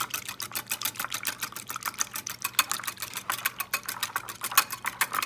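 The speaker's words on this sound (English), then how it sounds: "what you want to do is just whisk them together so that they're combined" Whole eggs and egg yolks are whisked together in a small bowl, the whisk tapping the bowl in a fast, even stream of close, light clicks that carries on without a break.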